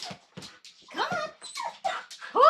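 A loud dog yelps and barks in short bursts up close, with whimpering, yipping calls between them.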